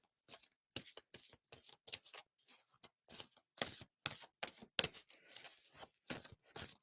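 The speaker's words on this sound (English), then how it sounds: "so you guys can all see it that I'm actually shuffling" Playing cards being shuffled in quick repeated bursts of crisp riffling and flicking, close and clear, with short pauses between each pass.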